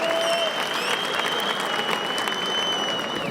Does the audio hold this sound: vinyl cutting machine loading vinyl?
no